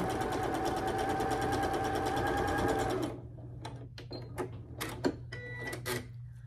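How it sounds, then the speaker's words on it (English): A sewing machine stitches a quilt block at a quarter-inch seam, running in a steady fast stitching burst for about three seconds, then falls quiet apart from a low hum and scattered small clicks and handling sounds. "take it to the machine, sew at 1/4 inch"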